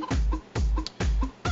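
Egg-laying hen clucking, several loud close clucks in a steady rhythm, each a sharp low burst that quickly fades, with no voices.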